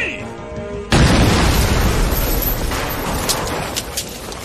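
A grenade detonates in a video game with a sudden loud boom, followed by a long roaring, crackling rumble that slowly fades, with no talking over it.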